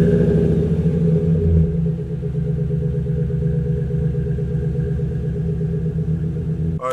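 Chevrolet Silverado pickup driving through snowy woods: a continuous, close, low engine rumble with a steady throb, louder at first and then settling into an even drone, with no voices.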